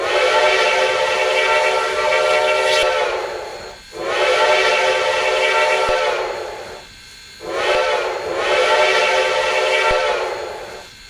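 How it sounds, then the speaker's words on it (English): A loud three-chime steam locomotive whistle in a train simulator game sounds three long chords, the second and third separated by brief gaps, with rich layered tones and no voices. "the actual 3D model depicts a 3-chime whistle"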